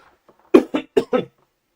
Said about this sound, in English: Sorry, just got a bit of a cough there.